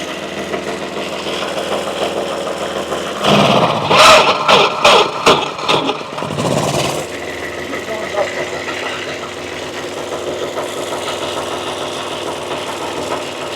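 A rare Caterpillar Diesel 70 engine cranks and fires with a burst of rhythmic knocking pulses, then settles into a steady, rumbling idle, with people talking nearby.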